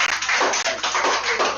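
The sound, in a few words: audience clapping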